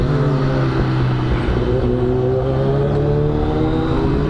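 A Kawasaki ZX10 motorcycle with a swapped aftermarket exhaust and new air filter runs on the road, its engine a loud, close, steady drone with slowly shifting pitch.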